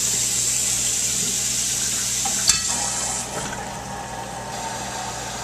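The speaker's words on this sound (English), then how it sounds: "Now I'm just going to top it off with regular tap water." Tap water pouring steadily into a container for homemade wine, a continuous close rushing splash with a small knock partway through and a slight change in tone near the end.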